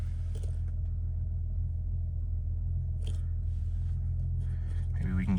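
A 1993 Volkswagen Corrado SLC with a VR6 engine idles close by, giving a steady, even low rumble throughout with a few faint clicks and shuffles on top.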